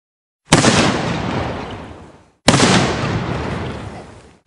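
Two loud cannon blasts about two seconds apart, each a sharp boom with a long rumbling decay, fired at a sea monster in a pirate adventure story; no voices over them.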